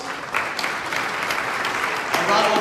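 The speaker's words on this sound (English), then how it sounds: "give a round of applause for yourselves for being such a great audience" A candidate forum audience claps in a dense, sustained round of applause that swells louder near the end, with voices mixed in.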